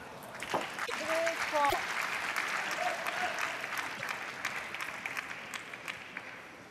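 A crowd at a table tennis match at the Korea Open applauds after a point is won. The clapping is sustained, fills the hall and fades gradually, with a commentator talking over it.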